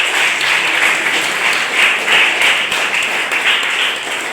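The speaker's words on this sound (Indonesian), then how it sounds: "Tepukan untuk Pak Mega." Students and guests at a school assembly clap loudly and steadily for an invited speaker, a thick, close wash of many hands that holds level the whole time before easing slightly at the end.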